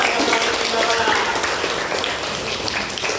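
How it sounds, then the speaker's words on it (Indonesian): A fifth-grade class applauds a classmate in a classroom, with a continuous wash of many hands clapping at moderate loudness and voices mixed in. "Tepuk tangan dulu buat Leo"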